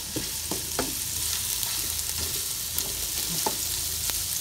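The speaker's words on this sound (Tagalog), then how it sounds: "Gisa-gisa lang." Onion and ginger fry in a pan with a constant steady sizzle, while a utensil scrapes and taps against the pan in light, irregular stirring strokes.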